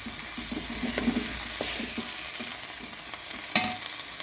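Fenugreek leaf vangibath cooks in a pan, a soft continuous sizzle close by with intermittent scraping stirs of a spoon against the pan and no talking.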